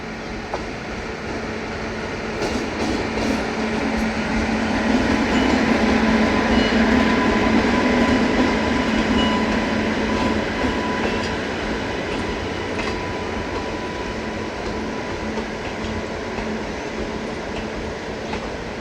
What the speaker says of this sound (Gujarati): સાબરમતી વેરાવળ વંદે ભારતનું એક સાથે 3 ટ્રેનનું ક્રોસિંગ